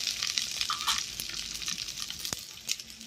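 Chilli and garlic frying in oil in a pan, a steady close hiss and sizzle with a few small clicks of stirring, no talk.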